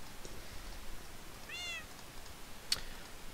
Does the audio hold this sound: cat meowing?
yes